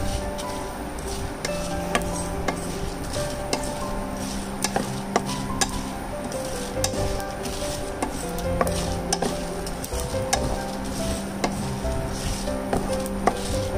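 Ingredients for prawn vada sauté in a pan over a medium flame, with a steady sizzle and frequent metallic taps and scrapes of a spatula against the pan, close and fairly loud.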